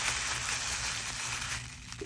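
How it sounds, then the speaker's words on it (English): Paper crumpled by hand for a homemade squishy toy, a steady dense crackle of rustling that fills the short stretch at moderate volume, with no talking. "Crumble the paper."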